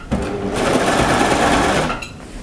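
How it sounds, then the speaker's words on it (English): A serger stitching French terry fabric runs in one fast, continuous mechanical whir for about two seconds, close and loud, then stops abruptly. "Always take care that you are not sewing stuff that you don't want to sew with your serger"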